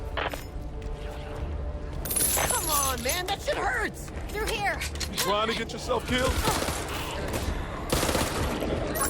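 Rapid bursts of gunfire from a zombie co-op shooter, Back 4 Blood, crackle loudly and repeatedly in clusters, mixed with game effects and someone talking over the shooting.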